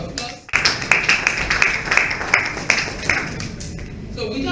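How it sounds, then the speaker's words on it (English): Audience applause at a national domestic and eco tourism conference in Nigeria, a burst of clapping that starts abruptly and holds steady with scattered sharper claps before thinning out. "Another round of applause."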